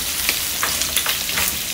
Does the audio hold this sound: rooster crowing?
no